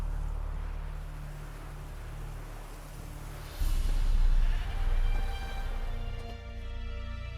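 A goat bleats loudly and nearby, tied to a stake as bait in the video game The Witcher, one long wavering call over a low steady ambient hum.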